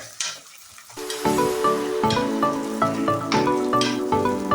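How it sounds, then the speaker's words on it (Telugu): Ginger garlic paste fries in hot oil with a close, steady sizzle, broken by rhythmic scraping and stirring of a spatula against the pan. "అల్లం చిల్లుల్లిపాయ పేస్ట్ కూడా బాగా నూనెలో వేగాలి"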